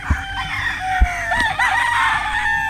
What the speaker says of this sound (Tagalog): Dito ang dami ding manok mga man.